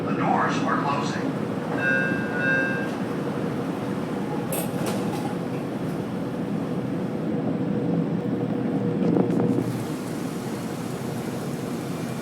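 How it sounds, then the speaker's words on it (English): An LA Metro Rail subway train rumbles steadily through an underground station as its doors chime and close and it pulls away, a loud continuous low roar with chime tones early on. "Please stand clear. The doors are closing."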